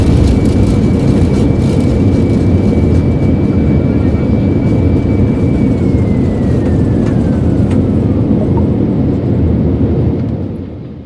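An airliner's engines drone steadily while it prepares for takeoff in Microsoft Flight Simulator 2024, a loud continuous roar with a thin whine that slowly falls in pitch before the sound fades slightly at the end.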